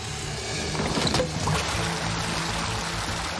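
In a cartoon, water gushes out through a tunnel after planks are pulled away, a steady rushing and pouring that swells briefly, then flows on evenly.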